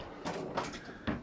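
Full-extension drawers on a bathroom vanity in a 2020 New Horizons Majestic trailer slide three times in quick succession, each a short soft rolling swish of moderate loudness with no talk.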